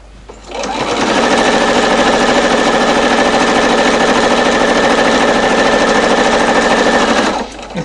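A sewing machine stitches quilt strips on a muslin foundation in one continuous loud burst of fast, even whirring that starts and stops abruptly and runs for about seven seconds.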